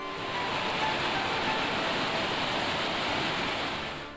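A waterfall tumbling down from the hills at Malankho near Chanderi in Madhya Pradesh gives a steady, dense roar of rushing water. It holds even and unbroken for about four seconds, with no voices.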